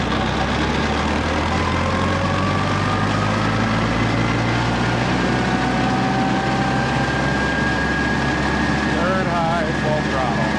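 An Allis Chalmers Model D tractor engine idles in third high gear, a steady, loud low drone with a faint whine rising slowly over it and brief warbling near the end.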